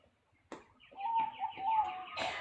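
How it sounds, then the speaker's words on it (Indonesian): Pigeons or doves cooing close by outdoors, a short soft run of repeated coos after a brief flutter, fairly quiet with no talk. "Aduh, suara burung lagi."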